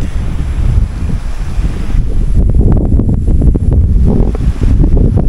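Strong wind buffets the microphone in loud, rumbling gusts that rise and fall throughout, with no one talking.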